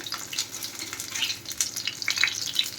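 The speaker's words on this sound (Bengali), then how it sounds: "এই যে পুরোপুরি ভাজা হয়ে গেছে ডান এবার তুলে নেওয়া হচ্ছে দেখুন" Bottle gourd pakoras crackle and sizzle steadily in hot frying oil, a close, continuous bubbling hiss with small pops and no voices.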